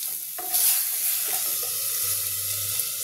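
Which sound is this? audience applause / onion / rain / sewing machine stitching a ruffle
onion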